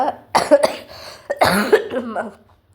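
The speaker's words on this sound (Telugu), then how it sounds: "చూసారా నాకు దగ్గు కూడా చాలా ఉందండి" A few harsh, close coughs in quick succession, followed by a brief throat-clearing rasp.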